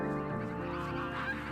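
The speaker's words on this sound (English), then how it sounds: "These greylag geese are defending their young against an aggressive gull" Greylag geese honk loudly and close by in a dense, harsh burst, defending their young against a gull on a Scottish sea loch shore.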